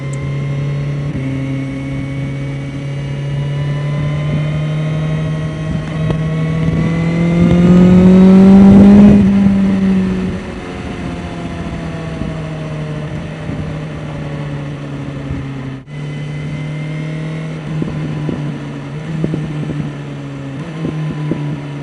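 A 2026 BMW M1000R motorcycle engine drones steadily while riding, swelling into a louder rev midway and then settling back to a continuous cruising hum, with no talking.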